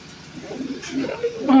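Soft pigeon coos murmur close by, low and throaty, with a brief bright note near the end.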